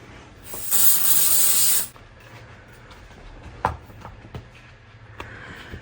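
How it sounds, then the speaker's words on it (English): Static guard spray released in one steady hiss of a little over a second, then a quiet room with faint clicks and a small knock while crafting an embroidered glitter bag tag. "you can spray it with either the static guard or try the dryer sheet"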